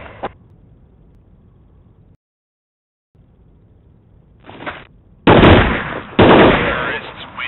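AK74U rifle fire from Counter-Strike Online rattles out in two loud, close automatic bursts near the end, after quiet stretches with a few faint clicks and a brief shot-like thump.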